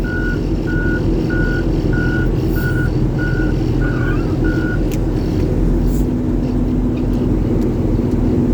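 A loader in a parking lot sounds a loud, evenly spaced reversing beep about eight times over a constant heavy diesel engine drone, then the beeping stops and the engine keeps running.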